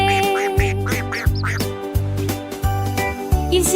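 Quacking duckling calls repeat in a steady run over a loud, rhythmic musical backing of a children's song, close and clear.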